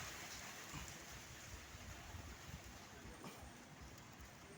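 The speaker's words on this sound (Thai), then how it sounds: "ฝนมาแล้วครับ" Steady storm rain hissing down, a dense even wash of falling water with faint low rumbles underneath and no clear voices.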